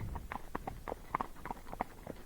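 Faint hoofbeats in a rolling, uneven rhythm as a Missouri Fox Trotter horse canters along on flat ground, moderately distant, with no voices.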